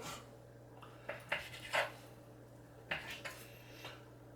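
Small knife cutting food into little pieces on a board, a handful of soft irregular taps and scrapes, quiet and close, with no talking.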